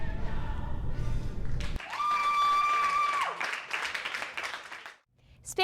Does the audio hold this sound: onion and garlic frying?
no